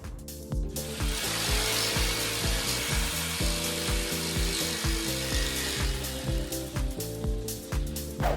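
A jigsaw with a dull blade cuts slowly through a wooden shelf board, giving a loud, steady, rapid rasping chatter that runs for the whole stretch with no talk over it.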